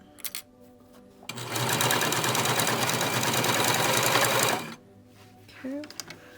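Sewing machine stitching a fabric face mask, a steady fast whirring run of about three seconds, loud and continuous, with brief quieter handling noises before and after.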